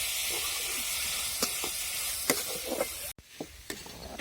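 Sprouted moth beans with onion masala fry over an outdoor wood-fired clay stove, giving a loud, constant broad sizzling hiss with scattered scraping stirs and a brief break near the end.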